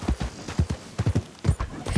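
Horse hooves clip-clop in Red Dead Redemption 2, a rapid, uneven rhythm of close, fairly loud strikes with no talk over them.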